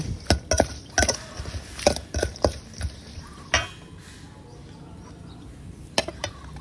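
Grilled mackerel salad ingredients, shallots, chillies and garlic, are tossed and stirred in a bowl, with irregular clinks and taps of a utensil against the sides, then a pause and a few final knocks.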